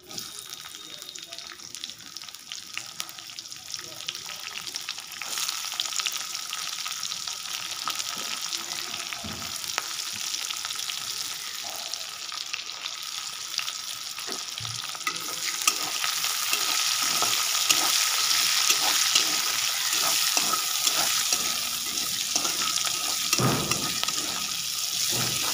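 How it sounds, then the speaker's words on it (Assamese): Onions fry crisply in hot oil, giving a dense, steady sizzle that swells louder toward the end, broken by scattered scraping and stirring clatter. "এই পিঁয়াজখিনি ভাজি ল'লোঁ মচমচীয়াকৈ"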